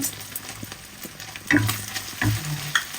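Green chili hitting a hot pan for a stir fry, a steady close sizzle with scraping stirs of a spatula and a couple of louder bursts as pieces are tossed.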